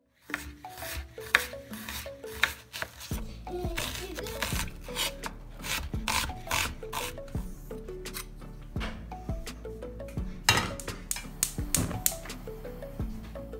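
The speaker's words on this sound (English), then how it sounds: "Chopping 1 onion," An onion being chopped with a knife on a cutting board, a run of close, sharp irregular knocks and taps that comes in quick bursts over about fourteen seconds with no speech.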